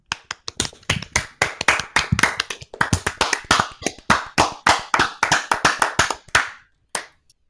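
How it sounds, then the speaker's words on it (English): A small group claps hands in uneven bursts of sharp, close claps for about seven seconds, with short gaps before a final lone clap. "Everybody clap now. Like, clap."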